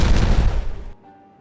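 A dynamite explosion in the video game Timberborn gives a heavy, booming blast that rumbles for under a second and then cuts off to near silence.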